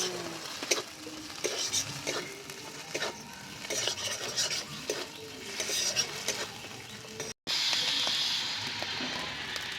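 Slit green chilies hiss and sizzle in a hot pan with garlic while a spoon scrapes and stirs in a steady clatter. The dish is a Bengali yogurt katla fish curry. A brief silent gap falls near the end, then the frying carries on.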